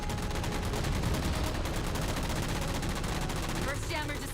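In Halo 4, a mech fires rapid, continuous bursts of heavy gunfire, loud and relentless throughout, with a brief game voice cutting in near the end.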